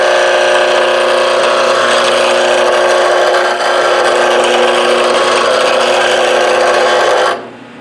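A chisel scraping spinning wood on a mini lathe gives a loud, steady, close rasping hiss with a motor hum beneath, running unbroken for about seven seconds before the scraping stops abruptly and only the quieter hum remains.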